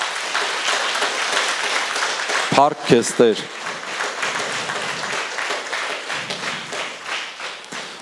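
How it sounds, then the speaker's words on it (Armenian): Congregation clapping together during a church sermon, a sustained patter of many hands that continues throughout, briefly joined by a voice calling out in the middle. "եկեք ծափարենք ասում"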